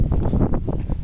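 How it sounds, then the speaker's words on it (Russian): Wind buffets a DJI Osmo camera's microphone during a walk around a Vancouver student campus, producing a loud, continuous low rumble with rapid gusty flutters and no speech. "Падает из-за ветра."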